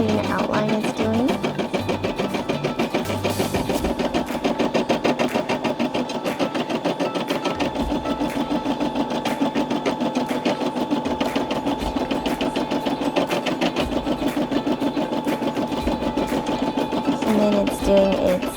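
A Brother SE600 embroidery machine stitches out a custom-digitized elephant design, its needle hammering in a fast, steady mechanical rhythm that runs loud and continuous throughout.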